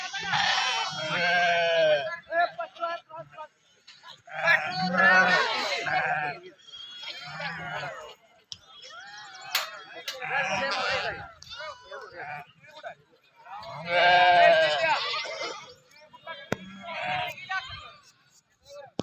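A flock of sheep with young lambs in a field at a shepherds' camp: repeated loud, wavering bleats come in close bursts, several animals calling in turn, with faint voices in the background.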